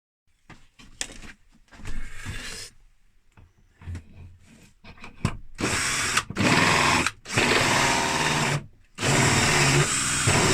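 Power drill boring through wooden pen blanks in a workshop, whining in bursts that start and stop, growing louder and more sustained toward the end, with brief pauses between runs.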